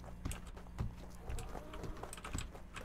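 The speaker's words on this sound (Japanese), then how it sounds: "誰か走ってる音すんな" Someone runs outside in the horror game Hatch: faint, quick thudding footsteps in a clip-clop rhythm, several steps heard at a distance against a quiet background.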